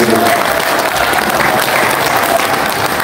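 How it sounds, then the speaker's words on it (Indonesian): A crowd at an Indonesian food traders' association political rally claps loudly and continuously, a dense, even wash of applause with some voices underneath. "Tepuk tangan buat semuanya."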